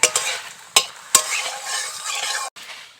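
Dried red chillies, split in half, frying in hot oil, a bright crackling sizzle close up with three sharp spatter bursts and stirring scrapes, no voices.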